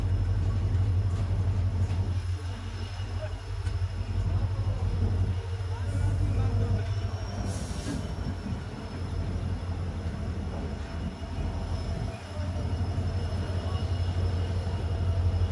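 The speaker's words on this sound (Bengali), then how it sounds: "এটা হলো গুয়াহাটি আগরতলা এক্সপ্রেস। আমরা এখন করিমগঞ্জ ঢুকলাম জংশনে।" The Guwahati–Agartala Express pulls into Karimganj Junction, a steady low rumble of the moving train heard from inside, with some wheel noise. A voice talks briefly over it.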